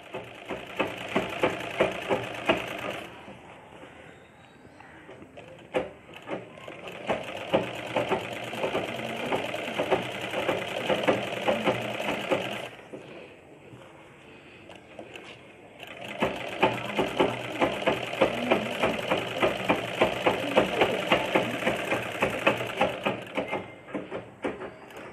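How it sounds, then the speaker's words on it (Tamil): Sewing machine stitching the sleeve of a churidar top, running in long steady bursts with a short stop after the first few seconds and a longer pause midway before the final stretch. "இப்போ வந்து நம்ம இது மேலே இன்னொரு தையல் தைச்சிக்கிறேன்"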